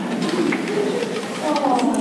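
A broiler hen purrs in a low, steady rumble with soft cooing trills, close by and continuous, with faint background noise.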